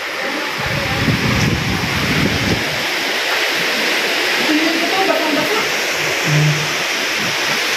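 Typhoon Uwan's strong wind rushes loudly and continuously, gusting for several seconds while a voice speaks faintly beneath the roar.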